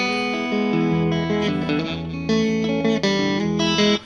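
An electric guitar plays sustained, effects-laden chords, the tone shifting between settings as it rings out loud and close.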